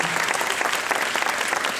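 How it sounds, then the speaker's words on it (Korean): A theatre audience claps loudly and steadily at a musical's closing-night curtain call, a dense unbroken wash of applause with no voices standing out. "큰 박수 한 번만 부탁드리겠습니다"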